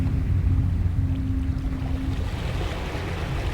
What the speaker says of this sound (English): With only a slight churning to mark its rise to the surface, the thing slid into view above the dark waters